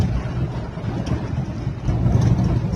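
A car cruises in fifth gear along an elevated Jakarta toll road, producing a steady low rumble of engine, tire and wind noise from inside the cabin, fairly quiet and even throughout.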